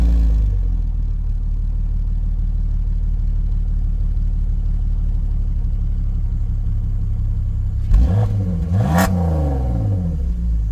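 A BMW 3 Series E46 engine with its exhaust unwrapped, a steady, close, deep rumbling idle that runs for several seconds before two quick revs rise and fall near the end.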